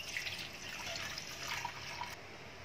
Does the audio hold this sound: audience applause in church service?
no